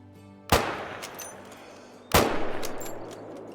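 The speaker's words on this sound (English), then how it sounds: "With the Mosin Nagant, I want to try and put 2 shots into it as fast as we possibly can." Two loud Mosin Nagant rifle shots in the hunting game Call of the Wild, fired about one and a half seconds apart, each a sharp crack with a ringing, rolling echo.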